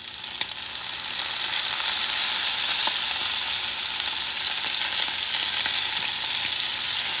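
Shrimp sizzle steadily in a hot pan with lemon juice squeezed over them, a dense, even frying hiss that holds loud and close for several seconds with a few faint crackles and no talking.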